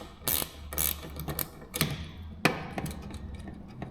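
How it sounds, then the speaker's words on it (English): A 10mm ratchet wrench loosening a nut on a Gio Golf wiper motor gives a handful of sharp metallic clicks and clacks spread through a few seconds, close and fairly loud. "there is a nut, 10mm wrench. That's what you want to get to remove that nut."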